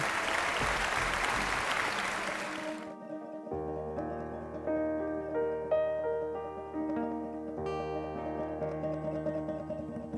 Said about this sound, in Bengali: তার জন্য একবার জোরে হাততালি হয়ে যাক